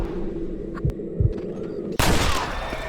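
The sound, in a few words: gunshots in the video game Red Dead Redemption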